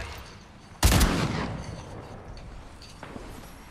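A single loud, close sniper shot in a shooter video game: a sharp crack that booms out into a long, rolling tail and fades into quieter background rumble.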